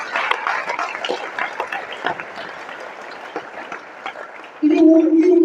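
Church congregation applauding, a burst of scattered close handclaps of varying intensity that gradually thins, ending as a voice begins singing or chanting.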